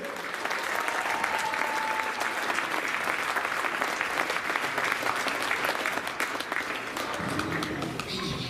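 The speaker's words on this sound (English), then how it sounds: "let's have a round of applause for all the seniors!" Spectators at a girls high school basketball game at Foxcroft Academy give the seniors a long, loud round of applause, the clapping dense and steady before a voice begins speaking near the end.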